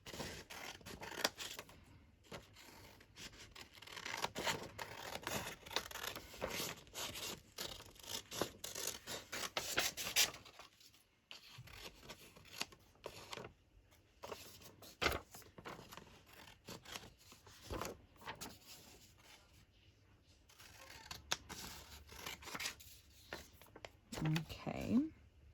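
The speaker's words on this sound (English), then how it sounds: "I'm going to take the bodgy scissors." Old, worn scissors snipping through paper tags, close and quiet, with repeated small cuts and rustling of paper in an indoor crafting setting, and a voice briefly at the end.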